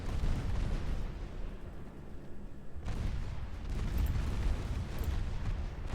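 Battleship guns fire in the naval game Ultimate Admiral Dreadnoughts as a dense, continuous rumble of heavy booms and blasts, with no pause for about six seconds and a fresh surge of loud low thunder halfway through.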